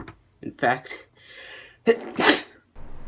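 A single sharp human sneeze, close and loud, comes after a brief spoken phrase, with a quick gasp-like intake just before the burst and quiet room tone after it.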